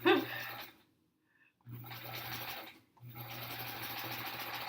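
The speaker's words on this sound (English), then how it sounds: "That click clack makes it sound like you're getting something done" An antique sewing machine runs in two loud bursts with a steady mechanical whir and clatter, separated by brief pauses of near silence.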